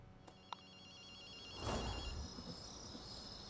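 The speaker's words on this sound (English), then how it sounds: "Hey, Akito, you hear a phone ringing?" A telephone rings faintly in short repeated trills over a low electronic hum, with a brief louder whoosh partway through, in the video game Ghostwire: Tokyo.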